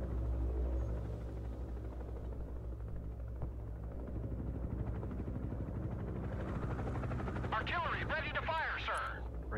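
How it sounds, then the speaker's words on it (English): Attack helicopter in the war game Broken Arrow, a low rotor thrum and rumble with scattered gunfire cracks, heard while players talk over it throughout. "Watch out, I got attack chopper right side."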